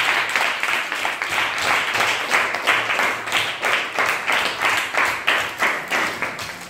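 Rhythmic group clapping from an audience at an orphanage visit, a steady, fairly loud patter of many hands beating in unison throughout, without clear cheering voices.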